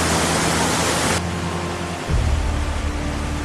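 Saghaigu Falls in Taita, Kenya pours as a steady rushing hiss of falling water, loud and continuous, shifting to a deeper rumble near the end as the listening position changes.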